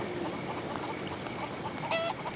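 A chicken clucks in the Haunted video game, a few short clucks over a steady background hum.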